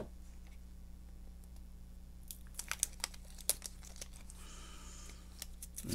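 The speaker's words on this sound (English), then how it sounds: "Get between the bottle and the cap, and just kind of cut that open." A knife is worked between an ink bottle and its cap to cut the seal open, giving a series of small crinkling, snapping and scraping clicks over a faint steady hum, with no speech.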